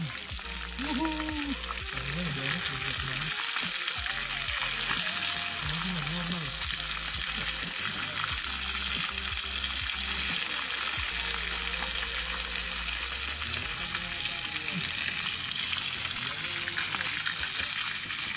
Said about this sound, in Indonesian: Nah, ini kita goreng-goreng dulu tuh, ya kan?